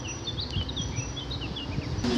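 Honey bees buzzing at a beehive, a close, continuous low hum with faint high chirps from birds scattered over it.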